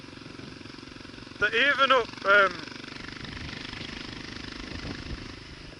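Kawasaki KLR motorcycle climbing a rough road up Mount Wellington in Tasmania, its engine a steady low hum throughout, briefly covered by someone speaking.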